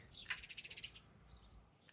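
A pair of European rollers nesting on a house roof give a quick run of harsh, rattling calls, then a lone call at the end, fairly faint and close-ish with no talk.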